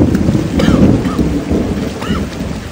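Heavy rain pours steadily during a storm while thunder rumbles low and loud, the downpour continuous and close with rolling booms swelling underneath.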